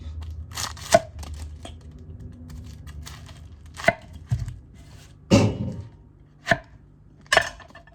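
Onion chopped with a Sukenari HAP40 210 mm kiritsuki knife, a handful of crisp, separate knife strikes and cuts on a board, close and irregularly spaced with quieter shuffling between.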